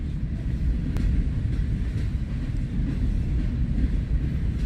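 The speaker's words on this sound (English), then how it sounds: "That slack action you hear is the train conductor or the train engineer upping the speed" A train rumbles steadily and loudly as it speeds up, with a low continuous rolling roar and faint clanks of slack action between the cars.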